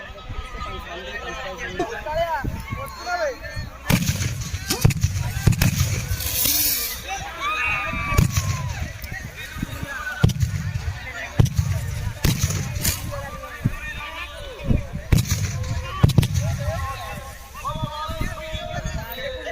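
Firecrackers burst in sharp, loud cracks and booms outside Baneswar Baba temple, repeated irregularly every second or two amid a buzzing crowd and excited voices talking.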